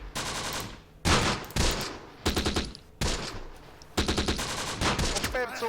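Bursts of machine-gun and rifle fire from the wartime strategy game Close Combat, in an assault on an Italian desert stronghold, come as several loud, rapid volleys separated by short gaps.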